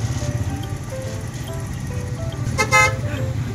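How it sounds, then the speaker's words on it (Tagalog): Congested road traffic on a tricycle ride, with a steady low engine rumble and several short car horn toots, one louder burst near the end. "Traffic na naman yan, oh."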